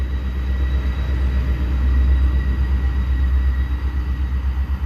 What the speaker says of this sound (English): I was just listening to that DPU, making sure it wasn't another train coming this way.